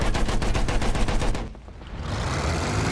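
Rapid gunfire in the World War I shooter Battlefield 1, a loud dense rattle of repeated shots for about a second and a half, then a brief lull before a steady roar of battle noise resumes.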